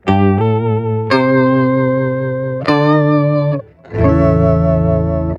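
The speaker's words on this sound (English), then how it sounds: "in poly mode, it's like just like a chorusy vibrato sound" Sustained guitar notes through an MXR Poly Blue Octave pedal in poly mode with a thick, wavering chorus-like vibrato, a few chords held in turn with a brief gap.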